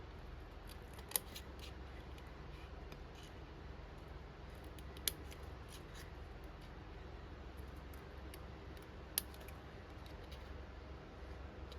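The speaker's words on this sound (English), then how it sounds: "now I just want to cut a little bit in angle" Scissors cutting paper at an angle during a scrapbooking box project, giving a few faint, sparse snips over a quiet background, with no talking.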